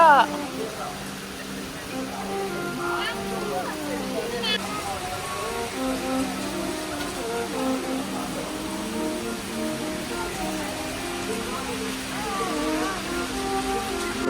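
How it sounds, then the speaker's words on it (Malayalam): Steady hiss of falling rain forms a broad wash of noise, with tonal voice-like sounds and some background activity layered over it. "ഓ മഴ."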